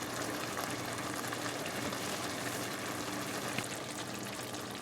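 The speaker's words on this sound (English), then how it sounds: "So this is going to have a lot of water once it starts cooking here." Chicken livers and hearts bubble and sizzle in a pan as their released water simmers, a dense, steady, close hiss and crackle with no talking.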